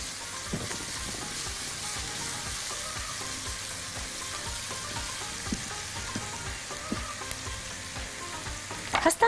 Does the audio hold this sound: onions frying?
yes